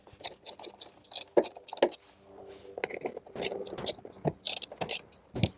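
Metallic ratcheting clicks and clinks from a socket ratchet loosening vehicle bolts during a distribution block install, coming in short bursts close up with a brief pause midway.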